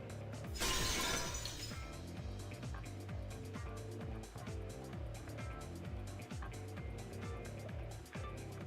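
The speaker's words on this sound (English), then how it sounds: "The sound of breaking glass is accompanied by a light cutting through the gloom." In the video game Fate/EXTRA, glass shatters in a loud burst near the start of the clip. A rhythmic, mechanical-sounding game soundtrack with repeating ticks and low tones carries on afterward.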